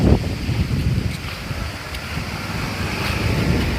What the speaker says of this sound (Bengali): প্রকৃতির বাতাসটা এত ঠান্ডা